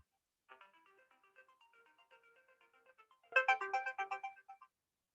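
A phone ringtone plays during an online Zoom class: a quiet repeating melodic pattern of short tones, then a sudden louder burst of the same chiming tune before it stops, with no talk over it.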